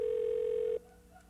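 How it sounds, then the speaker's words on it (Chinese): A telephone line tone sounds during a call on a television show, a steady electronic tone that holds for under a second before cutting off sharply into quiet line noise. "快点接电话"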